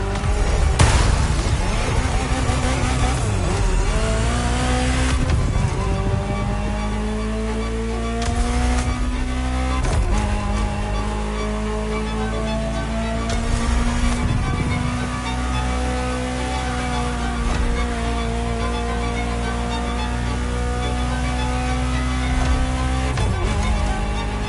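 A Ferrari supercar engine in The Crew Motorfest roars and revs continuously, its pitch rising and falling through gear changes, loud and close with no talking.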